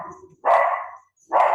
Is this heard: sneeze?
no